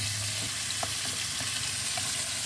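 Chopped tomatoes frying in hot spattering oil for a Filipino corned beef sauté, a steady close sizzle with a few soft stirring clicks and no talk.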